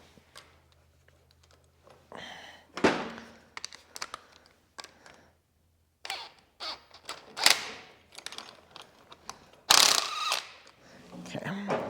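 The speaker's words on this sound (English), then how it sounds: "Now I'm going to tighten these down." Ratchet wrench tightening motor mount bolts on a 1962 Jeep Willys, heard as bursts of rapid clicking and metallic clatter, fairly close, coming in irregular spurts with brief pauses between them.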